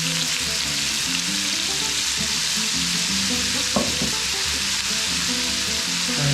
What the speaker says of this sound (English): we're going to take our onion and we're going to saute our onion